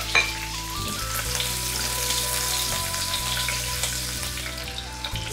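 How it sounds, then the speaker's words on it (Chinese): Scallion, ginger and garlic sizzle in a little leftover oil in a wok just after pomfret has been pan-fried, a steady close crackle running throughout with faint stirring and a low background hum. "锅里留底油，爆香葱姜蒜"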